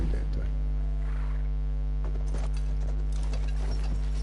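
Rhythmic clip-clop of horse hooves trotting over a low steady electrical hum in the video game Battlefield 1, the hoofbeats moderately close and even.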